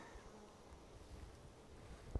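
Honey bees buzz around a hive box with a honey super being removed, a faint, steady insect drone with a soft knock near the end and no talk.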